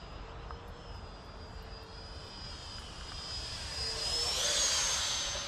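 A 3D printed J10 model jet, radio controlled, flies overhead with a steady high-pitched whine and rushing air that grows louder and rises in pitch as it passes closer near the end.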